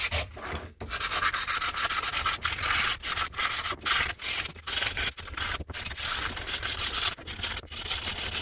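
Steel being sanded for a Suzuki Carry brake pedal lock, a loud, close, continuous abrasive rasp broken by brief pauses, with no talk.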